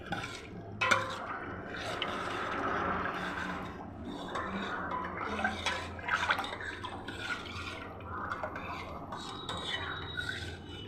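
Wet squelching and scraping as a junnu mixture of colostrum-style milk and jaggery is stirred by hand and ladle, a steady, close, continuous churning with soft drips.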